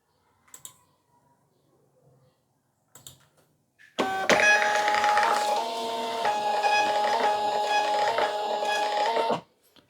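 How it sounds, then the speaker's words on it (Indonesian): A thermal printer runs steadily for about five and a half seconds, a loud, close, even mechanical whir with rhythmic stepping, after a few faint clicks and handling sounds. "Oke, kita print ulang coba."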